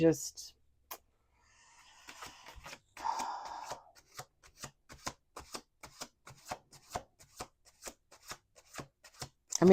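Tarot cards are shuffled with a rapid series of crisp riffling snaps and soft taps, close up, with brief voices at the start and end.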